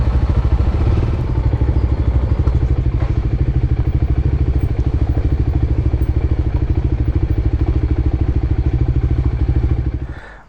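A Voge 300 Rally motorcycle engine idles loudly up close with a fast, steady, throbbing chug that holds for about ten seconds before cutting off.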